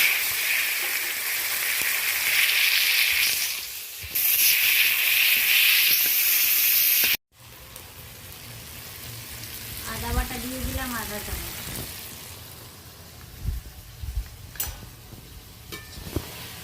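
Green chillies, onion and tomato hit hot oil tempered with panch phoron and turmeric, giving a loud steady sizzle and hiss that breaks off, then returns quieter with stirring clatter and a few sharp spits.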